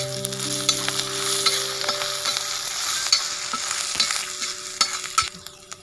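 Ginger, garlic and chili paste sizzles and spits steadily in a hot pan over spices and bari (kadauri), with scattered stirring scrapes and pops throughout.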